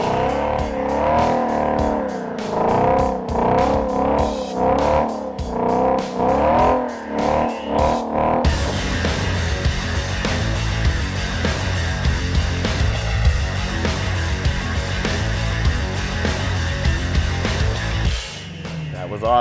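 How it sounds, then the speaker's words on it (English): Ford Shelby GT350 doing a line-lock burnout to warm the rear tires, a loud sustained engine roar with tire noise filling the clip, preceded by a stretch of rhythmic, pulsing sound before the burnout takes over. "it locks the front brakes while leaving the rear brakes unlocked so that you can do a burnout and warm up those rear tires"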